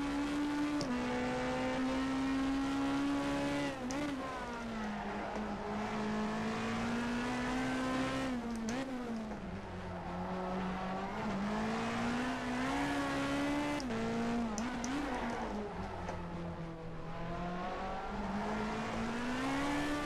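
A Renault Laguna super touring race car in rFactor 2 drives hard, its loud, close engine climbing and dropping in pitch through repeated gear shifts and lift-offs, with no talking.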